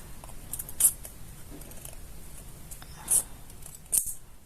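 Three sharp, brief scissor snips cutting through a plastic Yakult bottle, spaced a few seconds apart, close and crisp over a quiet background.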